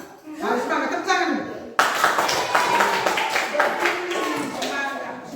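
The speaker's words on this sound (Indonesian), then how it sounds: "Harus semangat, tepuk tangan." In a classroom, students clap in short bursts. The clapping is mixed with voices and chatter, and a sharp cut comes partway through.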